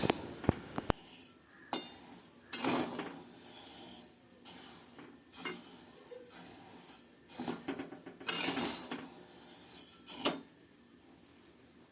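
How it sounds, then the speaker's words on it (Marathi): Moong and urad dal dry-roasted together in a pan: a spoon scrapes and clinks against the metal in irregular bursts, with brief rattles of the dry lentils and quiet gaps between strokes, close up and without talk. "आता येते मी मूग डाळ उडीद डाळ सेम भाजत आहे एकत्र"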